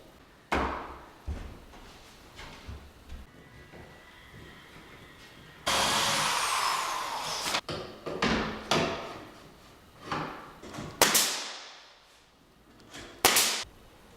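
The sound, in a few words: installing an interior door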